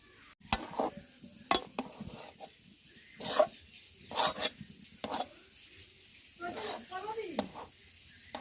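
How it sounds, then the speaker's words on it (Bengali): Thick rice flour dough being stirred and pressed in a pan for rosh bora pitha, with intermittent scraping strokes and soft sizzling at an even, unhurried pace, close and fairly quiet, with no one speaking. "আমি এরকম ভাবে নেড়ে নেড়ে একটা ডো তৈরি করে নেব"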